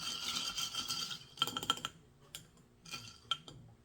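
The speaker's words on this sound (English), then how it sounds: "And you'll stir it up" Iced coffee stirred in a glass with ice, quick bright clinks and rattles of cubes in clustered bursts, quiet and close, with brief pauses between the rounds of stirring.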